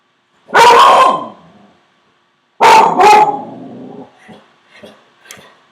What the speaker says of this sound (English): Sorry, that's my dog. She just heard somebody out front.